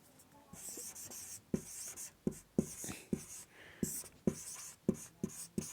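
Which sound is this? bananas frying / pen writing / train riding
pen writing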